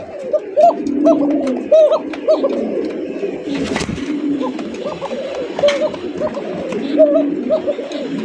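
Big magpie pouter pigeons coo in a steady rolling chorus at close range, repeated low throaty calls overlapping throughout, with brief faint sounds of people in the background.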